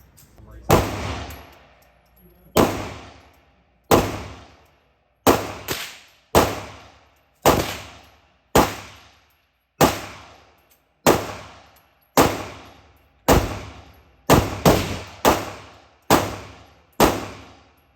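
Pistol shots at an indoor shooting range with a Taurus GX4 ring out as about fifteen loud, sharp cracks, spaced a second or two apart and sometimes in quick pairs, each trailing a short echo.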